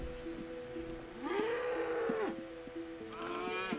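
Cow mooing in the video game Ultima Online, one long drawn-out moo in the middle, faint and alone over a quiet game background, then a short bright chime near the end.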